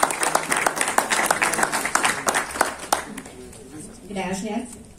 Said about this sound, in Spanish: recibamos con un fuerte aplauso a Ana Patricia Sáenz Pacheco.